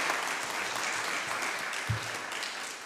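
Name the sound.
applause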